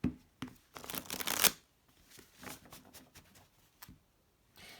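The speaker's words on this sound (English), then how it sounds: "While I'm shuffling my cards" Tarot cards being shuffled by hand up close: quick, crisp riffling bursts, loudest early on, then softer, scattered shuffling and card slides.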